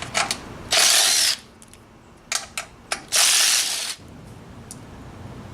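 A ratchet wrench loosens the skid plate bolts on a Yamaha YXZ1000R side-by-side, heard as two loud, rapid clicking bursts close up, separated by a few shorter ratcheting strokes and light handling noise, with no talk.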